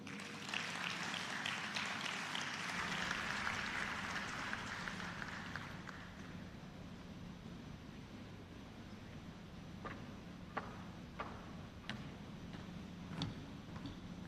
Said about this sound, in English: Another round of applause for Mr. Jules Ngankam